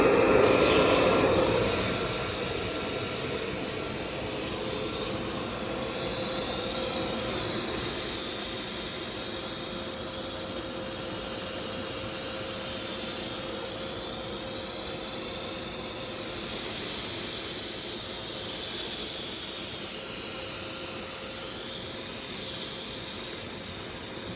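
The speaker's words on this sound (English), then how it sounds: "So the blower's on now." A blower running during the rinse stage of a bead and Tempest clean, a steady broad whooshing hiss with a low hum underneath, constant and fairly loud throughout, with no voices.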